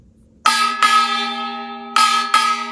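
Kkwaenggwari, a small Korean gong, played in the basic jigaen stroke: four bright, ringing metallic hits in two close pairs, loud and near, with sustained shimmering decay between strokes.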